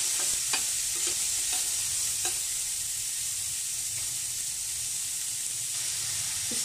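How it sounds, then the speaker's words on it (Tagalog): Onions sizzle in hot cooking oil in a pan, giving a steady close hiss while a spoon stirs them, adding occasional scraping knocks. No one talks. "So, pwede na ang mantika. Ilalagay na natin ang sibuyas."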